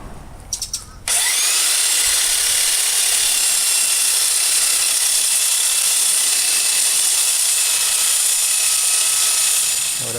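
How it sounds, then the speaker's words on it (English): Power sander running across a restored Craftsman workbench top, a steady loud whirring grind that starts abruptly after a brief clatter and continues unbroken. "Now let's start sanding the top."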